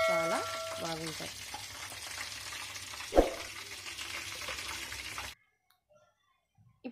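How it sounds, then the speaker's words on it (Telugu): Soya chunks deep fry in hot oil with a dense, bubbling sizzle, close and steady for about five seconds, then cut off abruptly to near silence. "చక్కగా గోల్డెన్ కలర్లో వచ్చినంత వరకు చక్కగా ఫ్రై చేసుకోవాలి."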